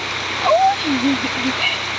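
Heavy rain pours down in a steady, close wash of hiss, with a voice rising and falling over it.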